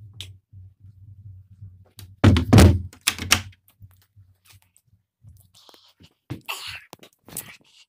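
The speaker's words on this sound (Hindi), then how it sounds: "ये दरवाजा लगा लिया।" A door being shut in a quiet room at home gives a loud, close thump with a short clatter after it, followed by a few soft knocks and shuffles.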